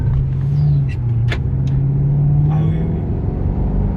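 A Maserati GranTurismo driving, its engine giving a steady low rumble with a sustained droning tone close by, while people chat briefly inside the cabin.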